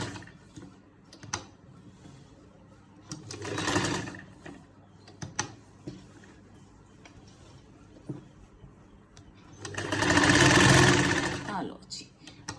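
A sewing machine stitches a lined shirt in short runs, rattling and whirring louder at the start and near the end, with a person talking quietly in between.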